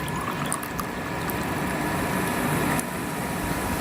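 Soda poured into a rose syrup drink for paneer soda, a steady fizzy, hissing broadband wash at moderate level, continuous for a few seconds with no talk.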